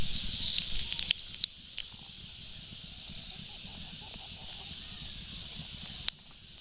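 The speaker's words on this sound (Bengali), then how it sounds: "কড়াইয়ের মধ্যে একটু সাদা তেল দিয়ে দিচ্ছি দিয়ে এবার আমি রান্না করে নেব পাস্তাটা এর মধ্যে আমি কিছু কালো জিরে দিয়ে দিচ্ছি" Nigella seeds hit hot white oil in a wok and set off a steady, bright sizzling hiss, with a few sharp pops early on that settle into a quieter, even fry.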